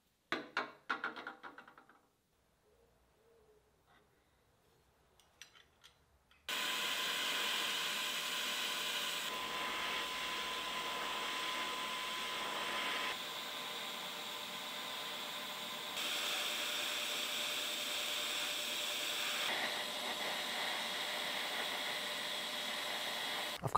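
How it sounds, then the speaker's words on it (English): TIG welding steel jaws onto an arm-mounted power claw: after a few quiet taps and shuffles, a steady loud electric hiss and buzz starts and holds for over fifteen seconds, shifting slightly in tone as the arc runs. "So I guess I should do some more TIG welding"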